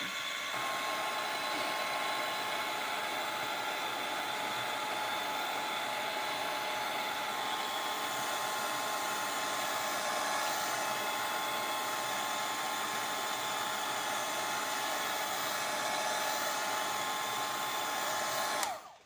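A hair dryer blows steadily for about nineteen seconds to dry a painted bookmark. Its loud, even whoosh carries a faint high whine, does not change, and stops abruptly at the end with no talk.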